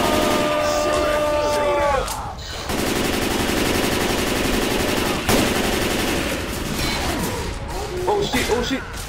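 Gunfire in the video game Left 4 Dead 2, a dense, loud spray of rapid shots filling most of the clip with a short lull near the start, while players shout over it.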